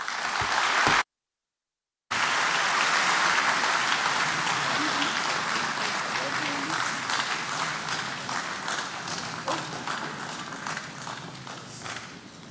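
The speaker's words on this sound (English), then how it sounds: "can we give His Excellency another round of applause?" Audience applause at a national transport conference fills the hall: steady, dense clapping from a large crowd, briefly cut by a second of silence, then continuing loud and gradually thinning toward the end.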